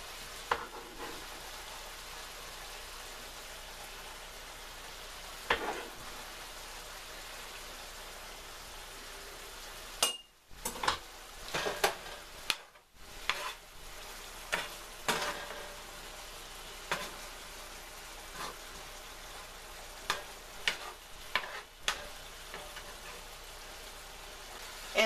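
Two cloves of chopped garlic sizzle in a frying pan alongside halibut, a steady crackling fry throughout with sharper pops and spits in the second half, close and moderately loud, no talking.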